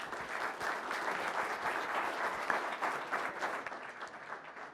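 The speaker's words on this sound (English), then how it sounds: "let's give Steve a round of applause" An audience at a dairy expo seminar claps for a speaker, a dense, even round of applause that holds steady and tapers slightly at the end.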